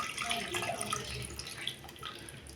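Tamarind juice being poured into simmering sambar with pumpkin pieces, a soft, continuous splashing trickle of liquid, close and quiet, with no talking.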